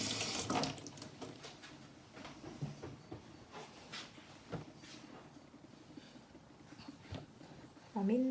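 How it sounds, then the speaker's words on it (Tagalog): A kitchen tap runs while hands are washed before seasoning a roast chicken, a soft, uneven stream of splashing water with faint clatter, ending in a louder gush. "Hugas muna tayo ng kamay."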